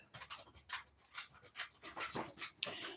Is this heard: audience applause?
no